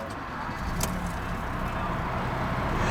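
A 2017 Ford Escape SE with a 2.0L EcoBoost engine is started with a key, giving a brief starter whir followed by a steady idle hum that stays near and constant.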